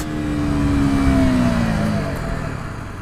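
A KTM Duke 125 motorcycle engine pulls hard in third gear up a very steep hill at around 6,000 RPM, its drone steady and sustained with pitch sagging slightly under load before easing off.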